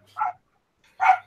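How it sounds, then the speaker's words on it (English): A dog barks twice, close and clear, with short sharp barks about a second apart and silence between. "She's barking, and then I hear it like a split second later in the chat."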